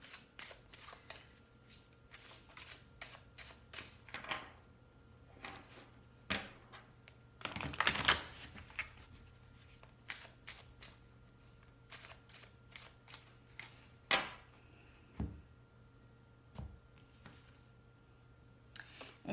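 Cards from an Angel Therapy oracle deck being drawn and shuffled, giving many quick, close, quiet flicks and riffles in irregular clusters, with one louder shuffling burst partway through and no speech.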